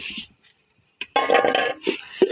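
A metal pot clinks and scrapes as puffed rice is stirred into melted date palm jaggery for sweet rice balls, brief quiet pauses giving way to a busy run of rattling, scraping strokes close up.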